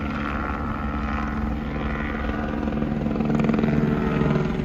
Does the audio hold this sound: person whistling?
no